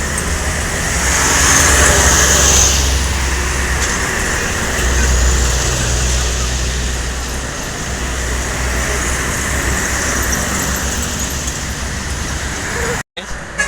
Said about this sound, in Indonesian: masuk lagi nih rombongan bus-bus Sumbar ya.